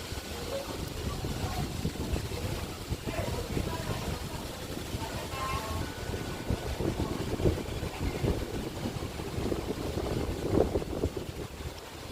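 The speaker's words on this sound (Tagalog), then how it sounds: "Walang malakas na ulan pero hangin lang." Strong typhoon winds in Hong Kong under a signal number 8 warning, with no heavy rain, buffeting and rumbling across the microphone in gusty waves, steady throughout.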